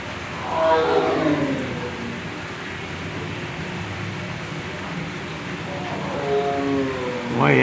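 A tiger at the Fresno Chaffee Zoo in California gives two deep, close roars, one near the start and a rising one at the end, over a steady low background hum.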